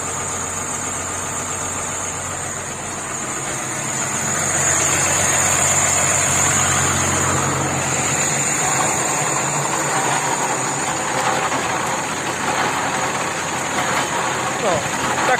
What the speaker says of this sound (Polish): Tylko że pewnie krzyżak będzie znowu hałasował mi tutaj.